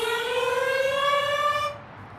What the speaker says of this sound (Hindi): भाई सायरन बज गया,